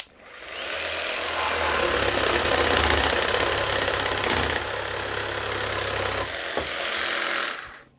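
A jigsaw with pendulum stroke cuts through a workpiece, giving a loud continuous buzzing rasp with a low vibrating hum that runs for several seconds, briefly dips midway, then resumes and stops.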